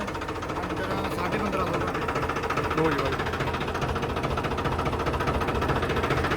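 A Farmtrac 45 tractor engine running steadily nearby, a low rhythmic chugging rumble with constant vibration throughout.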